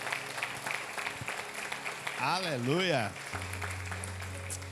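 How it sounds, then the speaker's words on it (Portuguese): Church congregation clapping during a Portuguese-language worship service, a steady patter of applause beneath a man's drawn-out, sung exclamation, with a sustained low tone near the end. "Você tem força para aplaudir Jesus bem forte?"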